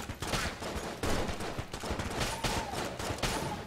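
Rapid gunfire from the co-op roguelike shooter Enter the Gungeon, a dense, continuous barrage of overlapping shots and bursts that stays loud and busy throughout, with no talking.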